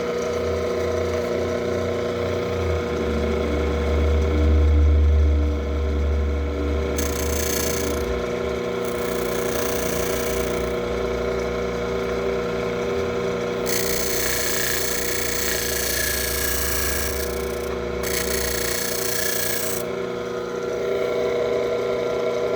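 A homemade disc sander driven by a washing machine motor runs with a steady, droning hum, and louder gritty bursts come and go as material is ground against the spinning disc.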